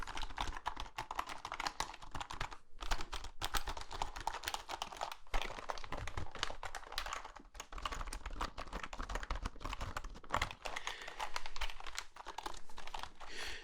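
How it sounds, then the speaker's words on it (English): Steady, rapid typing on a computer keyboard, a dense patter of clicky keystrokes with brief pauses, close and moderately loud. "The keyboard makes good sounds."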